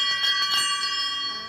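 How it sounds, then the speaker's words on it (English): A hotel service bell rings out clearly with a bright, sustained metallic tone, a couple of strikes blending into a lingering ring that slowly fades, with faint voices underneath. "Every time I come here, I'll be ringing the bell"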